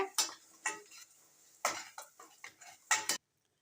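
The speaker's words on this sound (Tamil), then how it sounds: "இப்போ கிரேவியை சேர்த்தாச்சு நல்லா கலந்து விட்டுருவோம்" Butter chicken gravy stirred in a pan, with several sharp spoon-on-metal scrapes and clinks in bursts and short pauses between them, close up with no voices.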